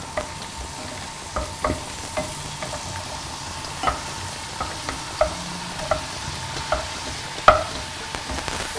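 Garlic and sliced mushrooms fry in a pan for a mushroom risotto, a steady close sizzle broken by light stirring scrapes and taps that land at irregular intervals, with no voices.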